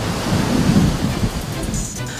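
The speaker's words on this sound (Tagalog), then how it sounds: "Bakas din sa mga alon sa dagat ang masungit na panahon." Sea waves churn and surge in stormy weather on the coast at Tacloban City, a dense, loud, steady wash with wind buffeting the microphone and no voices.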